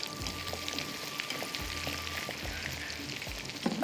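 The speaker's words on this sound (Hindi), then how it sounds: "बस इसको करना है अभी थोड़ा सा स्लो फ्लेम पे फ्राई" Frozen shrimp fry over a slow flame with a soft, steady sizzle and crackle, punctuated by a few low knocks in the pan and a faint tone in the background.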